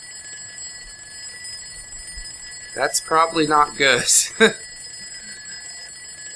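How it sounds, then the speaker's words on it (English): An alarm rings in the zombie survival video game Project Zomboid, a steady high electronic tone running throughout while someone speaks briefly over it. "Are you hearing that alarm?"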